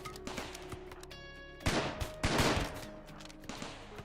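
Automated turrets firing during a raid defense in RimWorld, a few scattered bursts of clattering shots with a tonal whine underneath, fairly quiet overall and heard without speech.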